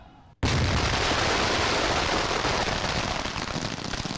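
Illegal firecrackers confiscated by police are detonated by a bomb squad, a sudden loud blast after brief quiet giving way to a dense, sustained crackling barrage of rapid pops that continues steadily to the end.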